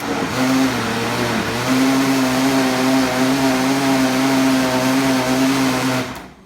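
A blender motor whirs steadily through carrot cake batter for about six seconds with a sustained low hum and a brief dip in pitch, then cuts off at the end.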